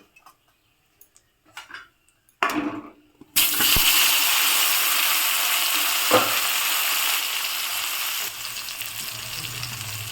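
Potatoes go into a pan of oil already frying cumin seeds, dried red chillies and bay leaves, and a loud close sizzle starts suddenly after a few clinks. The hiss then stays steady, with a stirring knock partway through.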